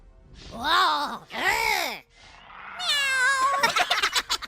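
A cat meows twice in drawn-out, wavering cries close by, followed by a sustained higher whine and a hissing shush at the end.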